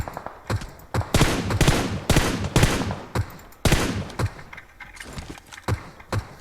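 Gunfire in the mobile battle-royale game PUBG Mobile: loud, close bursts of rapid automatic shots in several volleys separated by short pauses, with no talking.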